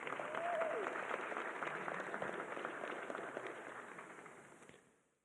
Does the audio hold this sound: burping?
no